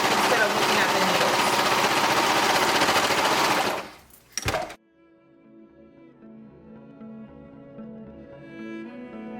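A sewing machine stitching a tank top runs in a loud, fast, continuous buzz for several seconds. It slows with a few clunks and stops, leaving a quieter hum behind.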